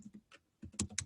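Keys clatter on a computer keyboard in a few short bursts of typing, close and fairly quiet, with brief pauses between the clusters of keystrokes.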